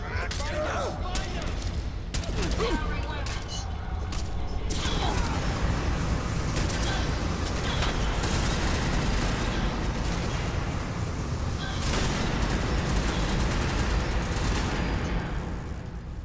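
Gunfight with explosions in the game Fallout 4: dense, continuous bursts of gunfire and heavy blasts fill the whole stretch, loud and near, with game voices now and then in the mix.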